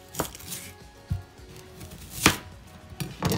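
Shallots (red onions) are chopped with a knife on a board: a handful of sharp, close knife strikes land at irregular intervals over a low background, with no talking.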